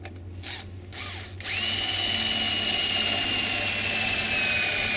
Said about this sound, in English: Once you have that marked, then you can go ahead and drill it.